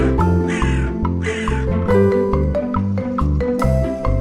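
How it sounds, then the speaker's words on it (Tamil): A crow gives two harsh, loud caws in quick succession, carried over a continuous background music track. "க்ரோ,"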